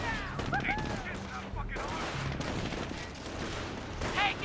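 Rifle gunfire in the World War II strategy game Company of Heroes, with riflemen firing at Panzer Grenadiers: scattered sharp shots and distant battle rumble inside a busy, constant mix of combat noise.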